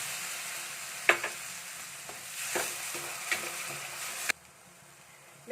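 Ripe pulped tomato fries in a pan with crushed ginger, garlic and onion for a Kerala-style masala curry, sizzling steadily with a few utensil clinks and stirring scrapes, then quieting near the end.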